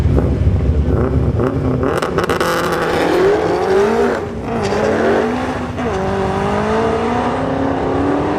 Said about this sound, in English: Hellcat was spinning out, so he goes 10:03 at 95 miles an hour.